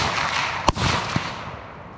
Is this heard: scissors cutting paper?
no